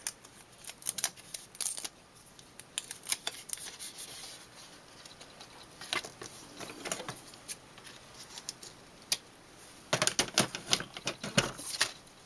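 Tape for a rubber stamp Christmas card is cut, heard as faint, scattered snips and crinkles close by with a denser burst of clicks near the end.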